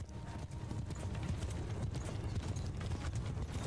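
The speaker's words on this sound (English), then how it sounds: "Let's see if you can wreck him with only the horse haunches." Horse hooves clip-clop steadily and continuously in Mount & Blade II: Bannerlord, with a dense rhythmic trampling of several mounts amid low rumbling battle noise. No one speaks.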